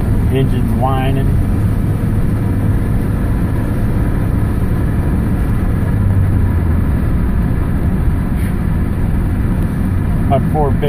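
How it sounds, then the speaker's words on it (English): A 1992 Honda Accord with transmission trouble that won't shift, its engine droning and whining steadily under constant road rumble, with someone talking briefly over the noise. "Engine's whining."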